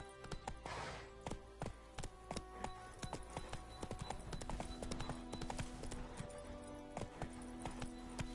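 Horse hooves clip-clop at a steady walking rhythm in The Witcher 3 video game, close and clear with game ambience beneath, the footfalls continuing throughout.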